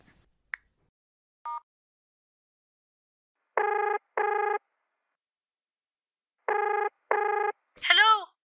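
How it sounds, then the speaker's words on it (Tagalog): A phone places a call: a couple of faint clicks and short beeps, then two pairs of electronic ringback tones separated by silence, ending in a brief warbling chime as the call connects, with no voices over it. "Tawagan ko na nga."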